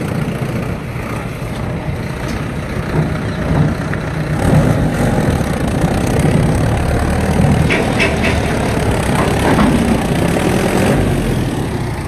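A tractor pulling a trailer on a farm runs its diesel engine at a steady idle and rumble, swelling slightly louder partway through, with faint clinks and rattles over the engine and no talk.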